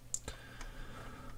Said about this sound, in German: Hier klicke ich einfach in diesen Bereich rein.